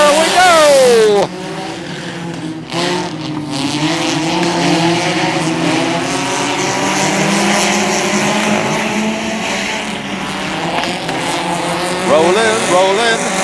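Hornets class race cars start a heat at Macon Speedway, a loud pack of engines roaring and droning steadily across the track, with a track announcer's voice partly heard over the noise.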